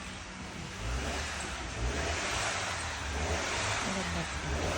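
A black Maserati's engine runs with a steady, loud broadband roar and low rumble throughout, swelling slightly after the first second as if revving, close by and continuous without any clear talk on top.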